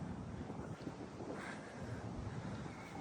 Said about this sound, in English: Windier than fucking what it was yesterday